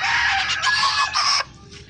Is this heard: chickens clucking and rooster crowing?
yes